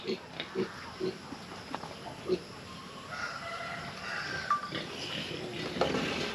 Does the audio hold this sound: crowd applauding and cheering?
no